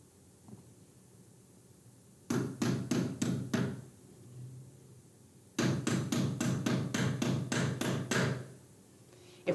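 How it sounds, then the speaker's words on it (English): Two bursts of rapid hammer taps on a pull bar tapping in the long joint of Pergo Presto laminate planks, about five blows then a pause, then a longer run of sharp, evenly spaced knocks, close and loud. "Use the pull bar and hammer to tap in the long joint"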